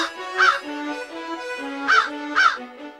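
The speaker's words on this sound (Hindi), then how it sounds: "ये कौवा कैसे काव काव कर रहा है" A crow caws three times in an animated Akbar and Birbal story, sharp harsh calls spaced out over a steady musical background, fairly near and clear.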